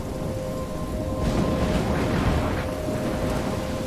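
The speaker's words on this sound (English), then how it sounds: "I'm trapped in a storm?" Heavy rain pours steadily in a thunderstorm in Life is Strange, with a low rumble swelling in the middle, a dense, loud wash with no speech.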